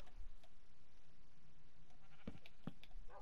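Minecraft sheep, including black ones, give a couple of short, distinct bleats near the end over faint game background noise.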